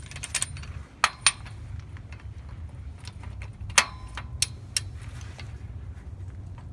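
A torque wrench tightens a bolt during a rear differential service on a Toyota Land Cruiser 200 Series, with a few sharp metallic clicks and clinks standing out over a low, quiet background.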